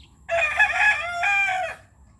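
A rooster crows once nearby, a loud drawn-out cock-a-doodle-doo with a brief break near the end, set over a quiet low rumble of background noise at a mango tree trimming site.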